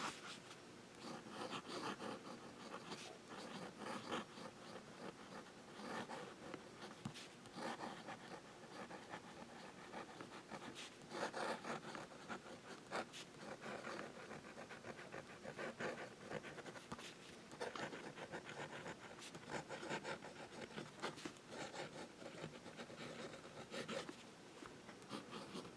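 A Platinum Cool fountain pen with a medium steel nib scratches steadily across paper, close up and fairly quiet, in continuous strokes with short lifts between words.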